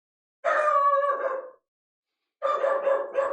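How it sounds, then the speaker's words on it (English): A dog gives two drawn-out, whining barks close by, each lasting about a second and separated by a short silence, with no other sound around them. "Dog's barking."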